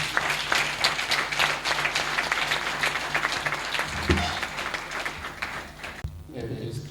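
An audience at a coaching summit event in Cotonou breaks into sustained applause, dense clapping filling the room for several seconds before it cuts off abruptly near the end.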